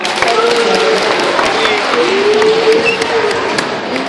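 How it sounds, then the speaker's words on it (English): A middle school audience claps and cheers together in a warm-up round of applause, a busy wash of many hands with a voice rising over it. "give yourselves a round of applause"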